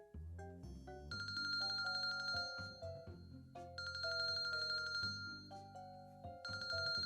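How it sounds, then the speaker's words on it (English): A phone ringtone in the visual novel Kinkoi: Golden Loveriche plays a bright, repeating electronic melody of stepping chime notes over a soft bass line, clear and alone. "My phone rang with perfect timing."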